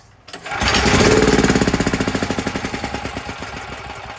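A cheap small generator engine, with a carburetor in need of cleaning or replacement, starts up and runs loud and close, settling into a rapid, steady chugging beat that slowly eases off.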